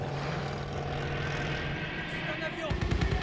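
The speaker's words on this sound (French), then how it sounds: "C'est un avion!" A steady engine drone from a propeller aircraft in Call of Duty: Vanguard passes overhead, loud and continuous, with a deeper rumble swelling near the end.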